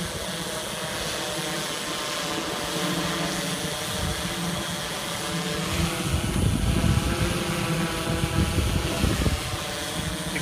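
A DJI S1000 multirotor drone lifts off from grass and climbs during a test flight, its steady propeller whine and hum heard from a distance over gusty wind rumble that swells midway.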